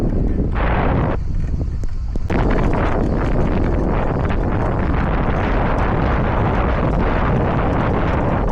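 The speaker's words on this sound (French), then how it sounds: "Aujourd'hui, il y a tellement de vent" Strong coastal wind by a kitesurfing spot batters the microphone in a loud, continuous roar of low rumble and buffeting gusts that never lets up.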